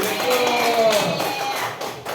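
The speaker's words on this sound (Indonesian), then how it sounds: "Oke, tepuk tangan untuk Cudeti." A small group of teachers claps for a colleague in a school meeting room, a short, fairly close patter of applause that thins out toward the end, with faint voices underneath.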